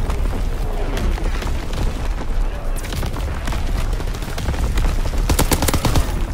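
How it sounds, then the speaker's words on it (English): Artillery and gunfire explosions from a Call of Duty match, a dense, continuous barrage of booms and shots with sharper blasts toward the end, loud throughout. "Incoming enemy artillery!"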